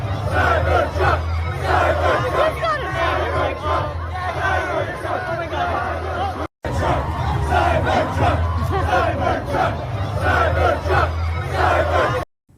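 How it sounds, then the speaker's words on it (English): Large crowd of excited kids chanting "Cybertruck" in unison, loud and continuous rhythmic shouting with cheering, cutting out briefly for a moment before resuming at full volume. "A bunch of kids cheering the vehicle name, losing their minds, just being in the presence of this thing?"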